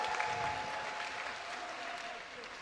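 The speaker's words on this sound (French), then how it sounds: "applaudissez-la encore, s'il vous plaît" An audience at a talent show applauds a singer, a dense, even wash of clapping from many hands that holds steady and fairly distant throughout.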